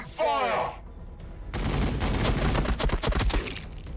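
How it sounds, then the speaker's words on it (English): Gunfire rattles in rapid, loud bursts during a battle in Warhammer 40,000: Battlesector. A short game voice line comes before the shots. "Firing on the enemy."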